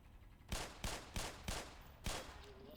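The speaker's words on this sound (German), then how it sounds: "Das war der letzte Schuss." Five sharp gunshots in the video game Black Mesa fire at roughly even intervals, each a loud crack with a brief tail, over a low steady background hum.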